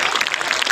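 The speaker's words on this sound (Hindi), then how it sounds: "जोरदार तालियां इस बच्चे के लिए" A brief, loud burst of clapping from a crowd at a school awards ceremony honouring a high-scoring student, dense and continuous for under a second.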